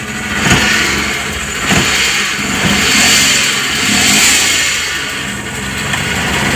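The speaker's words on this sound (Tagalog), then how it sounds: "papaandarin ko lang saglit kahit walang radiator yung unit mga boss" A Suzuki Multicab Scrum engine, running with its radiator removed, revs loudly and close by. The mid-pitched drone rises and falls in several throttle swells over a steady running roar.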